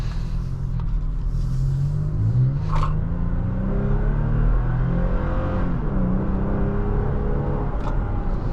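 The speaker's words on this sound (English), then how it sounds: "Decent acceleration, engine sounds pretty good." A 2023 Toyota Tacoma TRD Pro pickup engine rumbles and pulls up through the revs from inside the cab, a steady low drone rising in pitch with a shift-like dip, alone without talk.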